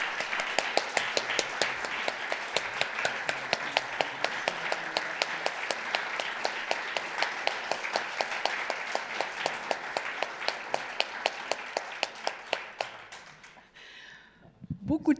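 Sustained audience applause after a live performance of music made with AI and a pianist, many hands clapping in a dense, steady patter with sharper individual claps standing out, tapering off near the end.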